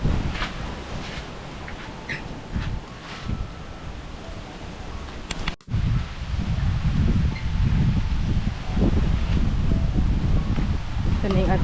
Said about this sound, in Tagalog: Hindi naman siguro ulan mahangin.